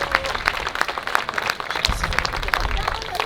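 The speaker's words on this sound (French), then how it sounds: "On leur fait un tonnerre d'applaudissements" Audience applause after a live rap set, a dense, loud clatter of many hands with sharp individual claps and crowd noise, going on steadily the whole time.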